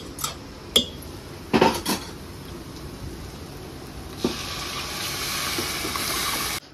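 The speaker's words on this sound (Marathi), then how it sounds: "ती डाळ आता सगळी मी त्यात ओतून घेते." Mashed cooked dal is poured into a hot pan of tempering. A few metallic clinks of pot and utensil come first, then a steady, close hiss that continues to the end.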